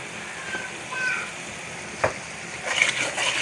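Chicken masala for Sindhi bhe chicken frying in a pan, with a soft, steady sizzle broken by a sharp utensil clink near the middle and brighter spattering toward the end.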